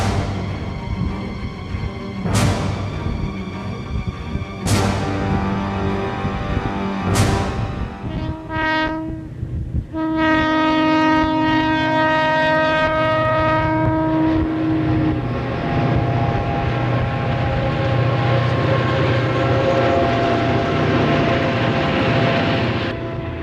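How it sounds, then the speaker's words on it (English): Rio Grande Tunnel Motors 5357 and 5382 lead a westbound freight train through Grande, sounding several loud, sustained multi-tone horn blasts, then rumbling past with continuous engine and rail noise. "Rio Grande Tunnel Motors 5357 and 5382 led a westbound freight through Grande."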